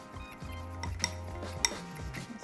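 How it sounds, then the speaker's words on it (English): Milk and powdered sugar whisked into a thick glaze in a bowl, a soft steady swishing with a couple of light clinks of the whisk against the side, close and fairly quiet. "Just whisk it up."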